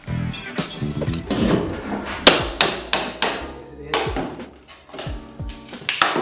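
Repeated sharp hammer blows drive a long chisel into a wall during a house renovation, loud close strikes in an irregular rhythm with ringing metal-on-wood impacts, no talking.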